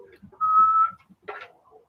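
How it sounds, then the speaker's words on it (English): A person whistles a short tune: one long sustained clear note, then a brief burst and a few softer notes, heard close with faint background. "It's a lot of whistling coming up."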